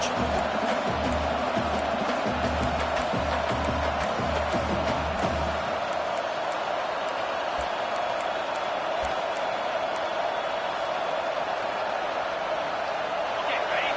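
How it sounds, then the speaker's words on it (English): Football stadium crowd at a college game roaring on fourth down, a loud sustained wall of cheering and noise, with a commentator talking over it. "this crowd is making it miserable on this offense"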